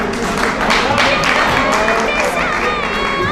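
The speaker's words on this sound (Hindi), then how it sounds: "एक बार जोरदार तालियां" Loud, steady crowd applause and cheering fill the whole stretch at a large national poetry gathering, a dense continuous wash of clapping with no break.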